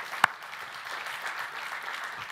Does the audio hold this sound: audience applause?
yes